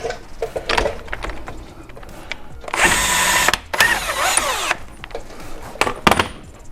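A power tool spins off the front axle nut on a 2018 Can-Am Outlander Max 1000 ATV, with two loud whirring bursts and some lighter clicks and clatter around them.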